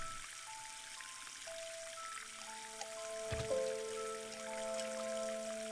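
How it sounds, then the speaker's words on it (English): Tap water running into a sink in a video game washroom, a steady soft trickle and splash that carries on through the whole stretch with a few faint tonal blips over it, no talk. "Wash my hands. Cold water works."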